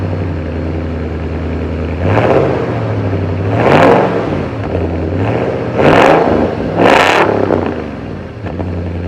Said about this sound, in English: I just wanted everybody to be able to hear what it sounds like with just plain headers